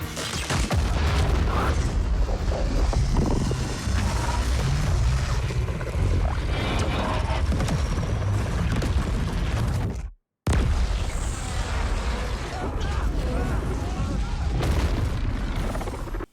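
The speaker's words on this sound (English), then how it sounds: "when the explosion happens, it's blink and you'll miss it" A loud, dense barrage of booming blasts and rumbling debris fills the scene, broken by a brief silent gap before the chaos resumes.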